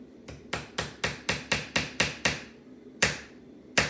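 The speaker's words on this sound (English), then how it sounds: "So hold it straight while you hammer it." A small hammer drives a nail into a wooden Christmas sign with about a dozen sharp, close taps, mostly in a steady quick rhythm, then a short pause before the last blows.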